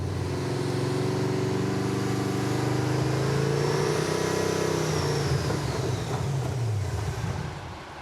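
A Camaro's engine runs steadily for several seconds, its tone wavering and dropping as it sputters out of fuel and cuts off near the end.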